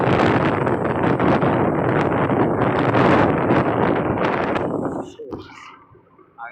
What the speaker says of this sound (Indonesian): Anginnya kenceng kali.